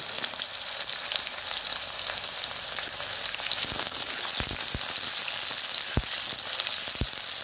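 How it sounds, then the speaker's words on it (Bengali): Onions frying in oil for aloo posto with ridge gourd, a loud, dense, continuous sizzle with a few sharp crackles and spatters, close and steady throughout. "পেঁয়াজটা একটু ভাজা ভাজা হয়ে যায়।"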